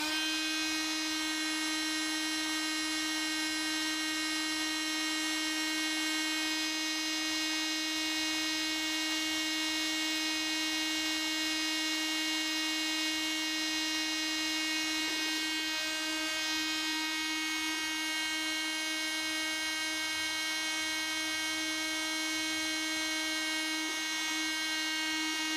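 Ryobi 18V cordless dust blower running continuously at a steady high-pitched whine, loud and close for the whole stretch.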